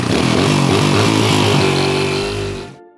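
A Kawasaki KLX 140 dirt bike that won't start churns loudly and continuously as the engine cranks without catching, then winds down and cuts off abruptly near the end.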